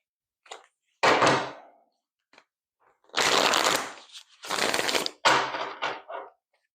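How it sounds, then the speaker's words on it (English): Tarot cards being shuffled nearby in several riffling bursts, each a crisp rapid flutter, separated by short pauses and a few light taps. "final shuffle."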